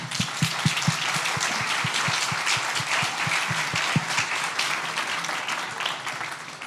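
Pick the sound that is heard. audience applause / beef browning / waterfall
audience applause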